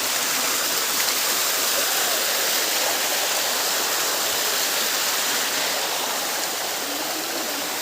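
A waterfall in Mindoro roars as a dense, steady hiss of falling water, constant and enveloping with no voices.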